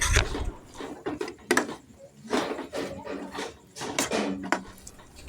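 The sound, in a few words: stirring jaggery coconut mixture in pan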